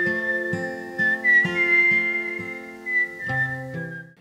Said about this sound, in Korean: 휘파람을 불었습니다.